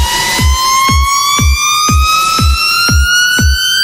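A synth riser build-up made in Logic Pro X, with a noise layer, sweeps steadily upward in pitch over a regular pulsing kick thump. It is loud and purely electronic, with no voices.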